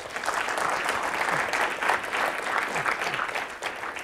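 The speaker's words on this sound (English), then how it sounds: "let's give a round of applause for Nayeem" An audience claps steadily after a startup-week talk by a company founder and CEO, a dense, even round of applause lasting throughout with no speech.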